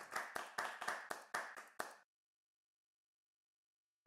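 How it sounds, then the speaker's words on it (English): Brief scattered applause for the best debater at a youth debate session, about seven distinct claps over two seconds, fairly close and modest in volume, then silence. "Round of applause, please."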